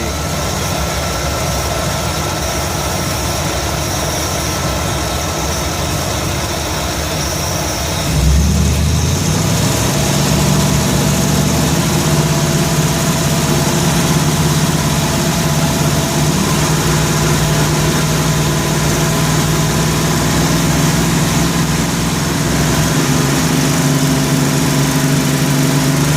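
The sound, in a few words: Ford 302 V8 engine in F100 revving at 3,000 RPM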